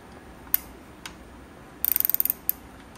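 A 3/8 ratchet on an extension turns the high-pressure fuel pump sprocket bolt on a BMW N54 engine, giving a few single clicks and then a quick close run of about ten sharp ratchet clicks.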